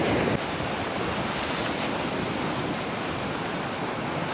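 Black Sea surf breaking on a beach at Chornomorsk, a steady loud wash of waves with wind rushing across the microphone, continuous and close with no voices.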